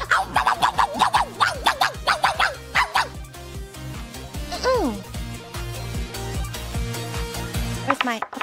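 A person imitates a dog barking with a run of quick, high, yappy barks, then a long rising-falling howl-like call, over a continuous patterned background with occasional talking.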